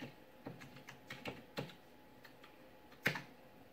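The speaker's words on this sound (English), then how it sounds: "Type say hello and then press enter." Quiet keystrokes on a computer keyboard during Kano OS setup on a Raspberry Pi, a handful of irregular taps spread over a few seconds with one sharper final press.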